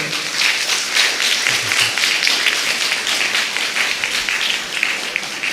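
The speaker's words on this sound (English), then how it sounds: "Can we have a big round of applause for sir?" A seminar audience gives a speaker sustained, dense applause that stays loud and even throughout, with a few faint voices barely under the clapping.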